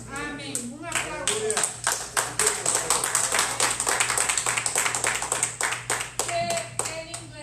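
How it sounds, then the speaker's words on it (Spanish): A church congregation claps during a Spanish-language worship service, with a quick run of individual hand claps and some rhythmic beats, close and lively, while voices speak over it. "Un aplauso."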